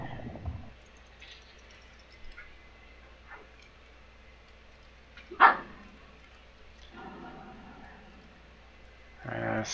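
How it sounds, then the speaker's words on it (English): Dogs in the house bark and yip in scattered, short outbursts, some sharp and near, others faint, with quiet gaps between. "Sounds like my dogs are gonna act up again."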